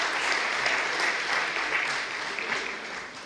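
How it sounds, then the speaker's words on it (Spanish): A university council audience applauds at a formal event, producing a dense, continuous wash of clapping from many hands that holds steady and then tapers slightly. "un aplauso también para ustedes"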